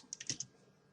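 Typing on a computer keyboard while entering a rate into a form, a few soft, quick key clicks close by, then quiet.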